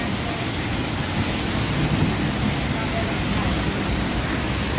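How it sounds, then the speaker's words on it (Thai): Steady heavy rain pouring and splashing over a street noodle stall in Ang Sila, Thailand, a dense continuous wash of noise with no pauses. "น้ำฝนสาดเต็มเลย"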